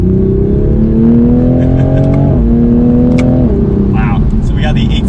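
The inline six-cylinder engine of a Toyota A90 Supra with an 8-speed automatic revs hard and loud from inside the car, its pitch climbing through two upshifts, with talking over the drone.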